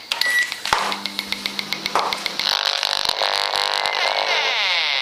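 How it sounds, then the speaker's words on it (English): A microwave oven timer is keyed in with a quick series of short electronic beeps, followed by a longer tone and the oven's humming start, all close and loud. "Let's set the timer to 120."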